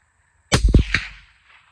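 A single close, loud rifle shot fired while zeroing a HIKMICRO Alpex LRF 4K day and night scope outdoors, a sharp crack followed by a short rumbling echo fading away.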